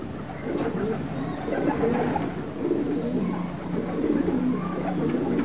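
Pigeons coo amid a busy, steady background of low murmuring and rustling, with soft repeated calls blending into the noise throughout.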